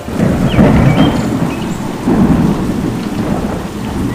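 A thunderstorm with heavy rain: steady dense rainfall hisses throughout while low rumbles of thunder swell and fade twice, loud and enveloping, with no voices.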